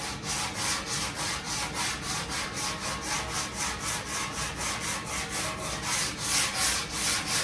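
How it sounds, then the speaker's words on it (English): Coarse sandpaper on a sanding block rubs back and forth over body filler on a classic car panel, giving a steady rhythmic rasp of even strokes, close and fairly loud, with no talking. "I'm going to try to sand from line to line and do the same science on the car."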